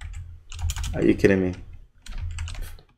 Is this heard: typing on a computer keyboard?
yes